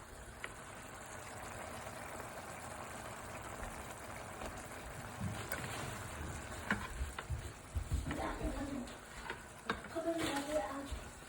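Pasta stirred into a sizzling pan of creamy beef and bacon sauce, scraping and clattering stir strokes growing louder in the second half over a soft frying hiss, with no talk.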